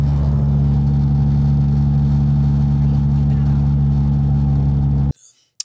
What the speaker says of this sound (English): the other wheel bearing definitely needs changing. Still sounds like a Hoover at speeds.